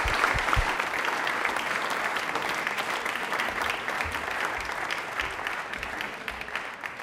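Studio audience applause on a Rajasthani Independence Day quiz show, a sustained burst of dense clapping that starts strong and stays steady for several seconds, with no talk over it.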